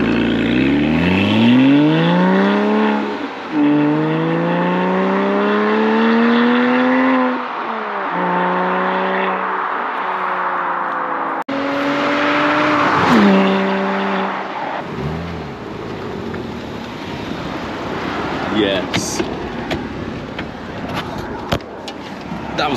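A Porsche Cayman 987 with a loud exhaust revs through rising gears as it approaches, roars past close by with a sharp pitch drop, then fades into a distant rumble.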